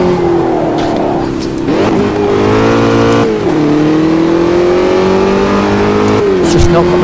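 Formula Dirt race car engine in Automobilista 2 at Hockenheim, a loud continuous buzzing whine that rises and falls with gear changes throughout, with a voice talking over it.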